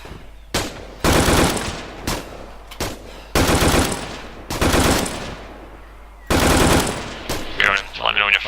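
Machine gun fire in a military video game, several loud close bursts of rapid automatic shots separated by short pauses, with a voice speaking near the end.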